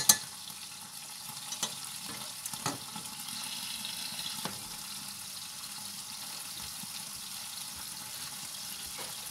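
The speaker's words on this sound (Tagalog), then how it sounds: "Hayaan natin silang maprito-prito ng kaunti." Meat for a Filipino adobo fries in a pan with a steady, moderate sizzle, with a few sharper knocks and clatters early on from stirring, heard up close without any talking.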